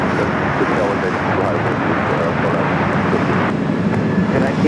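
An American Airlines airliner takes off from runway 24 left at LAX, a loud, steady jet roar that fills the whole stretch without a break. Some faint voices may sit under the noise.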